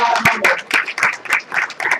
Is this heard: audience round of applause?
yes